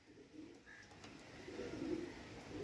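Pigeons coo softly at a bird sale of old-line Andhra kalsera birds, low murmuring calls building slightly toward the end amid faint background noise.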